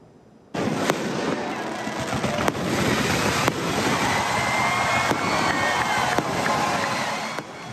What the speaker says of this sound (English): were treated to an amazing fireworks show after the game